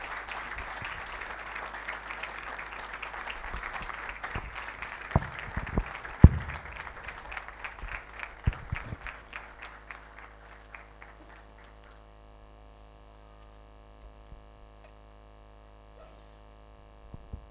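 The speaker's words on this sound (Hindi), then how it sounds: "ज़ोरदार तालियाँ बजाएंगे" A church congregation claps loudly after an Urdu sermon on fasting in Lent, dense clapping for about nine seconds that then thins out and fades, leaving a quiet room with a low hum.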